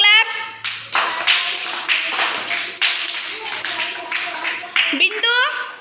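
Small children in a classroom clap their hands together in a quick burst of loud, uneven claps, with a voice and an adult speaking at the start and end.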